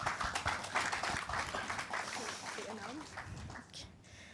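Audience applause at a global halal travel summit: a fairly faint, dense patter of clapping that thins out over a few seconds while a voice speaks over it.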